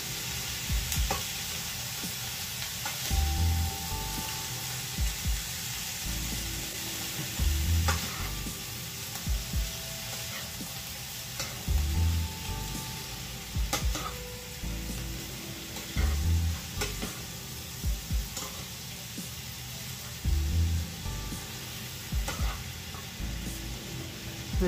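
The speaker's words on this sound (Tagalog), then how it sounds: "smell the aroma of the onions and the garlic? The pitik-pitik of the oil?" Onions and garlic sizzle steadily in hot frying oil, a continuous crackling hiss with soft, regular thumps of a spoon stirring the pan every few seconds, close and moderately quiet, with no talking.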